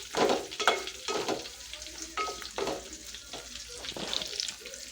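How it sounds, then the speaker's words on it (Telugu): Curry leaves and green chillies sizzle and crackle in hot oil in a pan, with bursts of frying noise and stirring through the cooking, no talk, clear and close. "కరివేపాకు అండ్ పచ్చిమిర్చి ఇవన్నీ వేసి మంచిగా పచ్చివాసన పోయేంత వరకు మంచిగా ఫ్రై చేసేసుకోవాలి"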